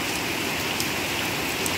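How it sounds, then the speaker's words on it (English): Rain pouring outside on a cold, rainy day in Kuwait, a dense, steady hiss of drops hitting surfaces with no pauses, fairly loud and close. "Rain."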